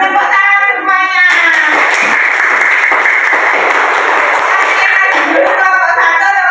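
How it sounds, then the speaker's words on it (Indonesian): A classroom group claps together in a loud, steady burst lasting several seconds, after a teacher leads a song, with voices before and after the clapping. "Tepuk tangan semuanya."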